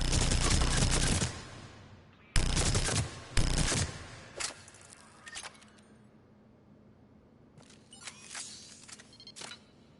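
Gunfire from a weapon in the video game Mass Effect 3, a loud burst of rapid shots at the start, two more sharp bursts, then scattered quieter shots and a final cluster near the end.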